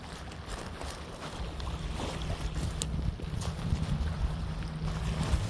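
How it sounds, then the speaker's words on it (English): Breezy outdoor wind, about 12 mph, rushes steadily at a woodland wild campsite on a cloudy day, a continuous low buffeting roar with gusty rumble against the microphone and no talking. "It's a little breezy. I think the wind's like 12 miles an hour at the minute"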